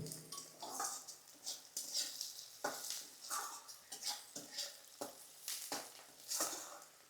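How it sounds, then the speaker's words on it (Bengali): Onions fry in a pan for spicy Kashmiri aloo dum made with new potatoes. A soft, steady sizzle sits under rhythmic spatula strokes that scrape and stir every half second or so, fairly quiet and close. "তাহলে পেঁয়াজটা ভালো করে ভাজা হবে এবং তাড়াতাড়ি খুব নরমও হয়ে যাবে।"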